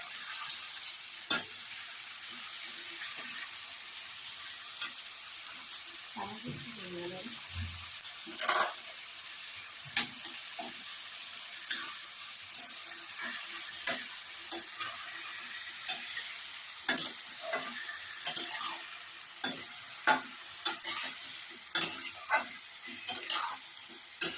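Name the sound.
stirring and frying tomatoes for chutney in a pan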